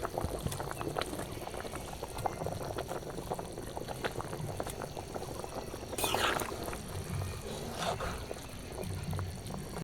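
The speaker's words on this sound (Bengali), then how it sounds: "মাছগুলো দিয়ে আবারও কিছুক্ষণ ঝোলটাকে ফুটিয়ে নেবো" Fish curry broth with fried fish pieces bubbling at a boil, a continuous close burble of liquid with a louder splashy gurgle midway, no talk.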